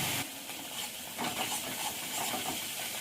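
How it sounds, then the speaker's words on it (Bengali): Ginger paste, cumin paste, chili paste and turmeric sauté in a pan, giving off a continuous hissing sizzle that grows a little louder partway through, with no one talking. "মশলাগুলো ভালো করে কষিয়ে নেবো।"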